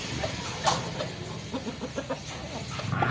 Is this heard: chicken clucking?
yes